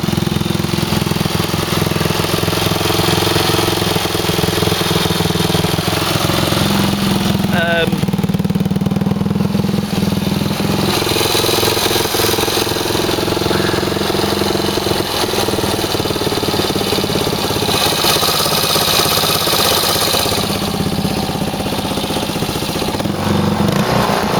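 A 1978 Suzuki DR370C single-cylinder motorcycle with a carburettor needing rebuilding idles steadily and loudly up close, a continuous rough chugging throughout, while someone talks over it.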